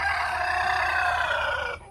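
A rooster in a village gives one long, loud crow, held steady and close before it cuts off abruptly.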